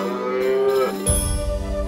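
A cow in the South Park: The Stick of Truth video game lets out a drawn-out moo up close, followed by a sudden low thump and a lingering game tone.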